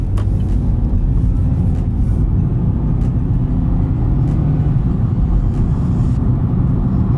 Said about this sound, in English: So you do have a little bit of road noise.